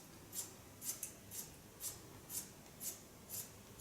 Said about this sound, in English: And hear how nice sharp this scissor is.